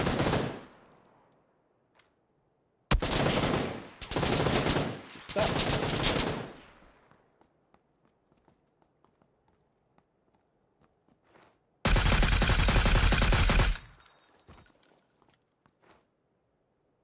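Gunfire in the battle-royale game PUBG on Xbox One: loud, dense bursts of automatic fire come in several close volleys, then a final sustained burst, with quiet gaps and a brief spoken word between them.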